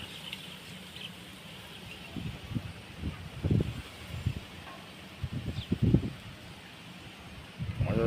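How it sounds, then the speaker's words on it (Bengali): Strong, gusty storm wind sweeps through an open area near Dharapuram, Tamil Nadu, under heavy clouds and blowing dust, striking the microphone in rough, rumbling blasts that surge and fade irregularly. "ধমকা হাওয়া দিচ্ছে এদিকে খুব"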